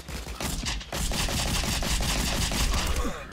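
Rapid bursts of video game gunfire from Rocket Birds, loud and dense, firing in quick repeated volleys with a brief gap near the first second, no talking over it.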